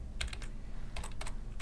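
Typing on a computer keyboard into ChatGPT makes short clusters of soft, close key taps separated by brief pauses, faint and alone with no talk.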